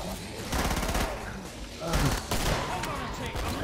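Heavy continuous gunfire during a co-op match of the video game Killing Floor, dense rapid shots that keep going almost without a break, loud and close, with voices faintly underneath.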